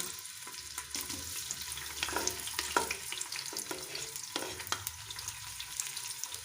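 Chopped onions fry in hot cooking oil in a pan, a steady close crackling sizzle with occasional spoon-stirring scrapes and soft pops, heard alone without talk.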